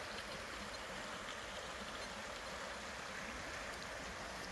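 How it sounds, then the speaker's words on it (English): The River Aire flowing through farmland, a steady, even hiss of rushing water with no breaks or talking. "the river Aire flows through"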